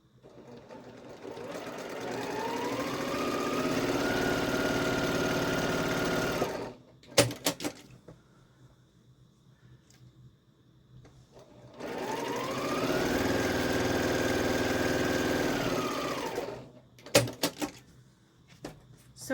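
Two bursts of a sewing machine running steadily as it stitches quilt block seams a quarter inch from a drawn line, each speeding up then holding a high whir, with clicks and handling noises and near-silence between the runs.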